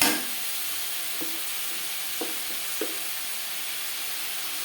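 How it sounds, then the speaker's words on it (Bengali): Snake gourd and grated coconut being stirred in a pan for a fry, a steady soft sizzle with a few distinct spatula scrapes and taps against the pan. "চিচিঙ্গার সাথে নারকেল বেশ ভালো করে মিক্স করে দেবো"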